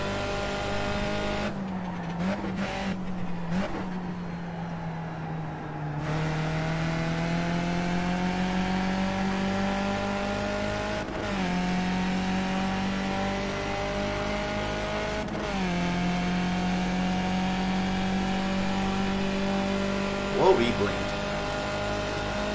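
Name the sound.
Skip Barber Formula 2000 race cars racing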